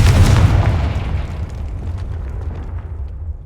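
A blasting spell explosion in the Hogwarts Legacy video game, a loud, deep boom at the start that rumbles and fades away over a few seconds.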